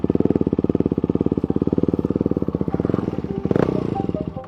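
A stunt motorcycle engine held on throttle during a wheelie makes a fast, even loud putter of firing pulses, then falters and surges briefly at the end.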